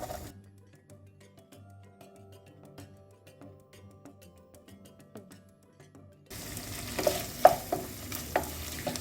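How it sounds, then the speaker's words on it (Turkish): Quiet stirring and scraping in a pan, then a loud, steady sizzle of pepper paste frying suddenly takes over for the last few seconds. "Şimdi salçamızı da biraz kavuralım."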